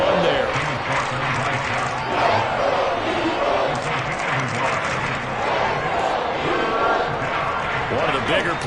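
A football stadium crowd at an NFL game roars continuously with loud, dense cheering that swells slightly at moments, with a voice faintly mixed in.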